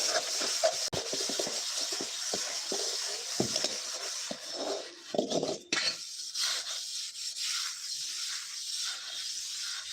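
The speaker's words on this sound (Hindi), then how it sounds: "देखिए माँ रख रहे हैं बर्तन।" Utensils, pots and pans being put away in a home kitchen, with scattered clinks, rubs and clatters of metal dishware that come close at first and then fade into a quieter background hiss.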